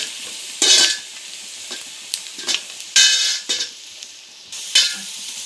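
Turmeric and spice powder being stirred in a frying pan for a Kerala-style chicken milk curry: a low sizzle punctuated by several loud, close scraping strokes of the spoon at irregular intervals.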